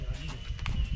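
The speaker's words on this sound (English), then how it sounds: "You can ride the horse come down here." A horse's hooves clip-clop on a trail in Grenada, a quick close series of uneven thuds over about a second.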